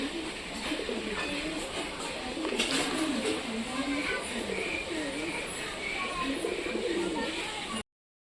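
Giribaj pigeons coo softly and repeatedly among other bird sounds, bathing together in a steady low background that runs throughout, fairly close, before cutting out abruptly near the end.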